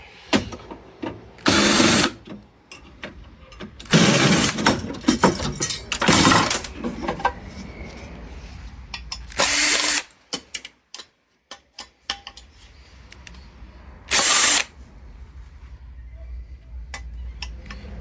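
A power drill backs screws out of a Rheem water heater being scrapped for copper. Several short, loud whirring bursts stand out against a background of metallic clatter and handling noise.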